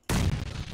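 A grenade going off in PUBG: one sudden, loud, deep blast that hits at once and rumbles on with a rough, fluttering tail for well under a second.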